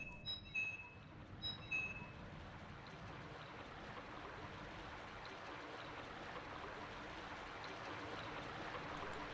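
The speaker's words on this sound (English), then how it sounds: "turn this valve, drainage valve, we open that, and that should set the water away" Water drains away after a drainage valve is opened in Silent Hill, a steady rushing flow that builds slightly over time, after a few faint metallic clinks at the start.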